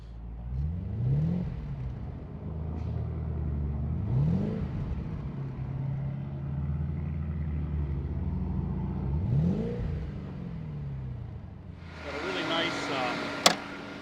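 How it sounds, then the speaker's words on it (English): Low, muffled V8 engine rumble from a 2004 Audi RS6 Plus holding steady, with a few rising revs and a brief brighter burst near the end. "Sort of muffled V8 rumble to it"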